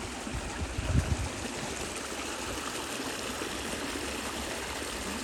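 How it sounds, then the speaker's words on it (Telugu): A small waterfall and flowing stream make a steady, close rushing and trickling wash, with a brief low thump near the start and no talk. "ఇక్కడ వాటర్ ఏం లేదు, హే ఏదో చిన్న వాటర్ ఫాల్ లాగా ఉంది ఇక్కడ"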